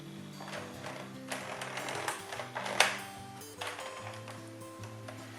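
An Addi Express knitting machine being cranked while knitting a hat, giving a steady run of close mechanical clicks and ratcheting ticks, with a sharper clack near the middle.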